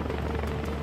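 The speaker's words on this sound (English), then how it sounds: "Enemy chopper sighted." An enemy helicopter in the Ace Combat: Assault Horizon video game gives a steady, dense rotor and engine drone throughout, loud and continuous with no talking.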